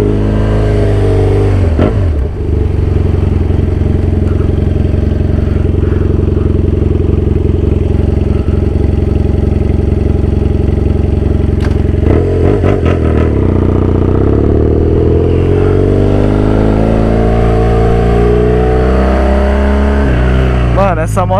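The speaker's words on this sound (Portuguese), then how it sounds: "Já deixei a moto esquentar aqui enquanto eu tava pegando as coisas." A BMW F800 motorcycle engine idles steadily and loudly up close while warming up, with a low rumble and occasional clattering, and a voice talks over it at times.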